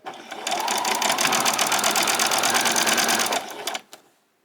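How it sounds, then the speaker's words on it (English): Sewing machine running a seam on a pajama top with a back stitch, one continuous close, loud whirring burst of rapid needle strokes lasting a few seconds before winding down and stopping. "We're going to do a few on, do a back stitch, and then come right down to the very end down here."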